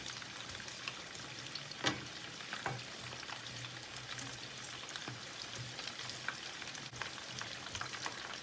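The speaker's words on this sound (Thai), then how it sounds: "ทอดไปจนกว่าจะเหลืองกรอบนะเพื่อนๆ" Shrimp spring rolls deep-frying in hot oil until golden and crisp give a steady, dense sizzle with occasional louder pops and crackles, heard alone at close range.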